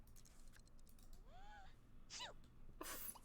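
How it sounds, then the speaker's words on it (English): A Sims character in the video game gives a quick, airy cartoonish sneeze with rising and falling tones, followed by a short burst of bright noise, all at low level. "Aw, she sneezed."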